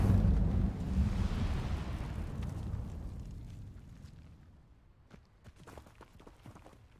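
A fiery Incendio spell erupts in the Hogwarts Legacy game: a loud, rumbling burst of flame that roars at first and slowly dies away over several seconds, leaving scattered crackles and light ticks at the tail.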